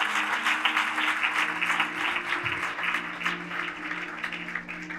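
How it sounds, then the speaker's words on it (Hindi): Loud, sustained clapping from a large congregation at a Pentecost church service, dense and continuous for several seconds with no voices on top. "जोरदार तालियां बजाएंगे"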